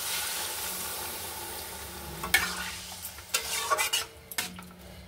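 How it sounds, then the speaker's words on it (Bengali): A spoon stirs potato curry masala in a pan after water is poured in. Sizzling and scraping carry at a low level, and a few sharp clinks of utensil against the pan come near the end. "এবার একটু জল ঢেলে দেবো।"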